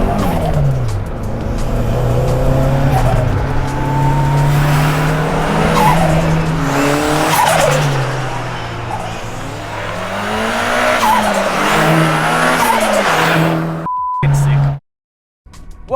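Lowered big-turbo sleeper project car driven hard with tyres squealing and skidding through repeated sliding passes, loud and close, engine note rising and falling, with a brief cut near the end.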